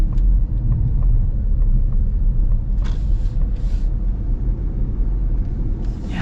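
A 2025 Ford Mustang Mach-E Rally electric car is driven, heard from inside as a loud, constant low road rumble and tyre roar. Brief hissing bursts rise over the rumble, and no one speaks.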